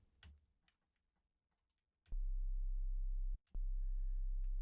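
Low sub bass sine wave tone: a loud, steady deep hum that starts abruptly after a few soft clicks, cuts out briefly, then resumes and holds to the end.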